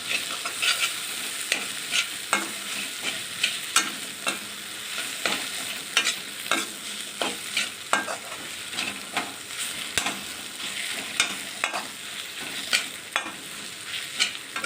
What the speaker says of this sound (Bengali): এটা দিয়ে আমি আর 5 মিনিট মতো একটু ভেজে নেব।